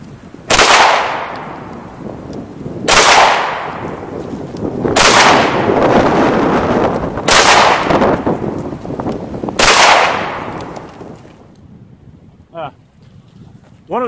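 An HK VP9 pistol fires five rounds at a range target, with loud, evenly spaced cracks about two seconds apart, each trailing off in a short echo, over gusty wind and a steady high-pitched whine.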